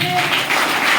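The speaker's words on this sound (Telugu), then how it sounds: "కొట్టు చప్పట్లో" A church congregation claps together in a brief, dense burst of applause, loud and close.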